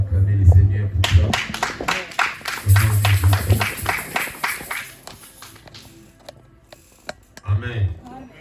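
A church congregation breaks into rhythmic clapping and acclaim at a French-speaking service, a bright burst of applause that swells, then thins out between spoken voices and low hum.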